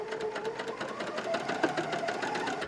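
A sewing machine stitching the ribbed edge of a jumper being reduced in size, a steady rapid mechanical whirr with fine rhythmic stitching pulses, close and continuous, no talking.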